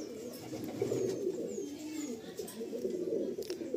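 Pigeons coo steadily in a loft where a pair of chotial pigeons is kept, their low, throaty murmuring continuous and close throughout, with faint rustles and chirps above.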